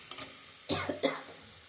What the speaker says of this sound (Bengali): উপরে যতক্ষণ না তেল উঠছে ততক্ষণ আমরা এটা নাড়াচাড়া দিতেই থাকবো সুন্দর করে।